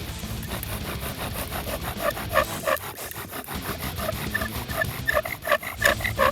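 A wooden bow drill spindle spins against a wooden hearth board to start a pilot hole. It gives a rough, rhythmic rasping sawing-like grind that speeds up into squeaky strokes in the second half.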